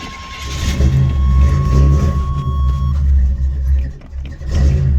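A Buick LeSabre that has been sitting cold starts up, its engine catching into a loud low rumble that holds steady and close, with a brief dip near the end before settling again.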